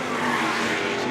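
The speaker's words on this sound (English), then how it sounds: "T70 thundering up the outside" A Lola T70 race car thunders past at full speed in a Group 5 high-speed demonstration, a loud, dense engine roar filling the moment with no break.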